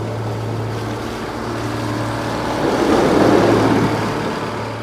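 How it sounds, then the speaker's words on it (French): A heavy snowplow engine rumbles steadily with a low droning hum, swelling slightly louder toward the end, with no voices. "Le chasse-neige a un gros moteur, il fait beaucoup de bruit."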